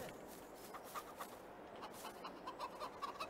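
Chickens cluck faintly in Farming Simulator 22, a quiet run of short, repeated clucks and chatter throughout, with no talk over them.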